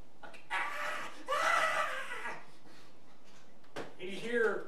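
A person's voice mimics a small creature's screech in raspy, strained bursts, one long shriek in the middle and a shorter squeal near the end, with breathy noise between.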